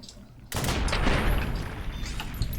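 Loud, close burst of SMG fire in Fallout TTW, a dense rattle of rapid shots that starts abruptly and continues for about two seconds.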